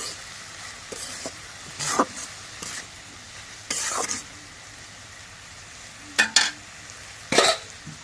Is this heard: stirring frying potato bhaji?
yes